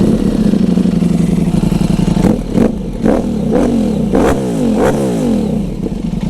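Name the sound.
Ducati Streetfighter V4 S motorcycle engine revving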